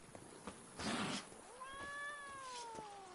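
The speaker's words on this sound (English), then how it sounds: "Alright, there's a cat. Because cats love us." A cat in the video game The Witcher 3: Wild Hunt lets out one long, drawn-out meow that rises and falls, clear and fairly close over quiet game ambience.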